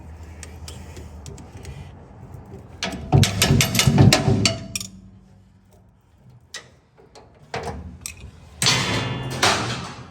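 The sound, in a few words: knocking a part out with a screwdriver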